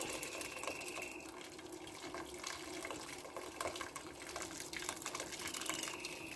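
Water is poured from a ladle over meat and spices in a cooking pot for couscous with cardoon, a faint continuous splashing and trickling that runs steadily throughout.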